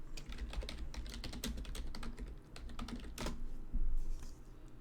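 Rapid, uneven keystrokes on a computer keyboard, clicking in bursts with brief pauses and one louder flurry near the end, close and clear with no talking.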